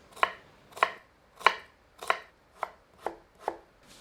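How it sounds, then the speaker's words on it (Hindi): A knife finely chops a large onion on a board for a mutton kidney masala, giving seven crisp, evenly spaced chops, close and clear with no talking. "अब एक बड़े आकार की प्याज को एकदम बारीक काट लेते हैं।"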